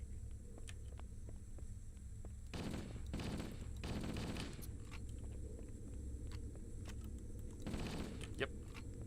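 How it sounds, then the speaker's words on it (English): Video game gunfire pours onto a Pelican dropship in a mod, several short rapid bursts of shots over a low steady hum, faint and distant in the mix. "Just going to shoot the crap out of the Pelican until it looks right."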